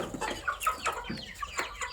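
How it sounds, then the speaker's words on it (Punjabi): Hens and roosters cluck close by as they are let out of their coop, a quick series of short, soft clucks and brief calls over a quiet background. "ਕੁਕੜੀਆਂ ਕੁੱਕੜ ਇਹਨਾਂ ਨੂੰ ਵੀ ਛੱਡੀਏ"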